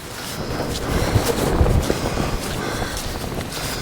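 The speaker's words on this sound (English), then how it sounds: "the wind's picked up" Wind gusting across an open, very wet path on a walk in Malhamdale in the Yorkshire Dales, a steady low roar against the microphone that swells in the middle and then settles, with no talking.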